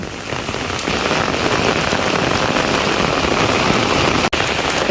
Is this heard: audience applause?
no